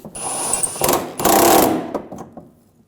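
A power tool tightens a bolt on the rear wheel bearing of a 2007-2013 BMW 328i, giving two loud buzzing, rattling bursts, the second longer, then trailing off into a few faint clicks; close and no talking.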